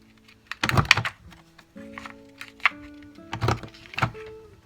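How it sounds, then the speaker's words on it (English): A corner rounder punch clunks through the corners of small paper envelopes, several sharp thunks with quick rattles and faint mechanical squeaks between presses, close and fairly quiet in a crafting room. "so round our edges, our corners"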